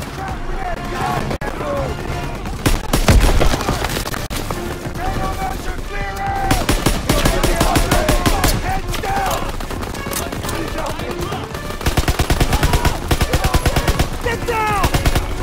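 Rapid machine gun bursts and scattered rifle shots crackle loudly and almost without pause through a Call of Duty WWII battle on Hill 493, with shouted voices mixed into the chaos.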